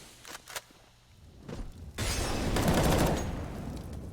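A frag grenade blast in a competitive Counter-Strike match during an ESEA Main game, a couple of sharp reports followed by a loud, sustained roar of explosion and gunfire.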